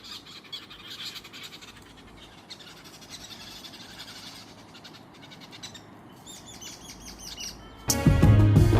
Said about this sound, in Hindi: आज पहली बार दोस्तों मैंने पक्षियों की लड़ाई देखी भाई,